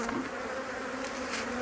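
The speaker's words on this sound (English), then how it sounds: "I've seen the bees." Honeybees swarm around a backyard hive, a dense continuous buzz close to the ear, with the pitch of individual bees rising and falling over a steady drone.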